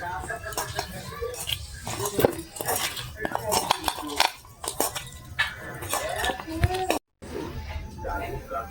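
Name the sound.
mixing mashed potato with garlic, green chili and salt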